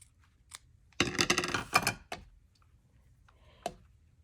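Paper for a handmade card is trimmed with quick snips and scrapes, a dense close burst in the middle with isolated clicks before and after, fairly quiet overall and with no voices.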